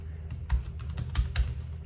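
Computer keyboard keys tapped while entering a password, a quick irregular run of light clicks close by, with a low steady hum underneath and no talking.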